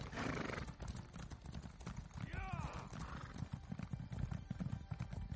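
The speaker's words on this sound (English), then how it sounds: "I get there with my slow-ass horse." Horse hooves clip-clopping at a gallop in the Elder Scrolls Online during a PvP ride, with a steady rhythmic beat, a whinny partway through, and speech over the top.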